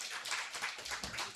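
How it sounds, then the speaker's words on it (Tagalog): A congregation claps together in a church praise service, a dense, steady burst of many hands at close range with no voices over it. "Isa malakas na palakpak para kay Lord."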